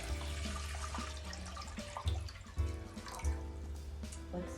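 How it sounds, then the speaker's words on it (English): Water splashes and trickles into a pot nearby for a double boiler, with a few louder sloshing pulses midway. "So I need to pour some water in here"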